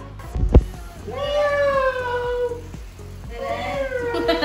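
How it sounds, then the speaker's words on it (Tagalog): A cat meows twice, drawn-out and tonal, close by, over a steady background hiss and a brief thump at the start. "Pusa!"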